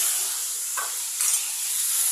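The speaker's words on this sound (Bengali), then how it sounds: "সেই পেস্টটা আমি ভাজা পেঁয়াজের উপর দিয়ে দিলাম" Spice paste hits onions already fried red in a pan and sizzles with a steady, close hiss, marked by a couple of brief stirring scrapes; no voices.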